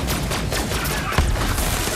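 Rapid bursts of gunfire from the video game Borderlands 3, loud and continuous with a sharper shot near the middle, filling the whole stretch without talk.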